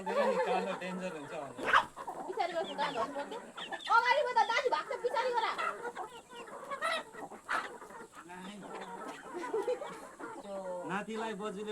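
Local roosters clucking nearby in repeated bursts, with a dog also audible, mixed with people talking over them.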